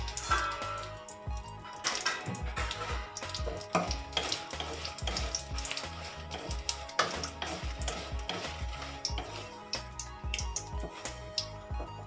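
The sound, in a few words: dried red chillies frying in a pan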